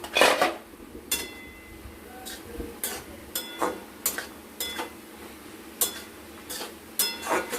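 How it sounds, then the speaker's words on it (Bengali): A pan lid lifted and cabbage with fish head stirred in a pan on high heat, a series of sharp metallic clinks and scrapes of utensil against pan, close and irregular, with no voices. "এবার একটু আমরা ঢাকনা খুলে বাঁধাকপিটাকে উল্টো পাল্টা করে দেব"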